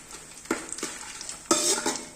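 Whole spices frying in oil in a pan for bagara rice give a soft sizzle, broken by two sharp clinks of a spoon stirring against the pan.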